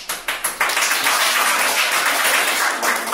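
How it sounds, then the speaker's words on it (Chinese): An audience claps at a handwritten-code programming contest: a few separate claps at first, then they merge into a dense, steady burst of applause lasting a few seconds. "倒数第3有啥好鼓掌的？"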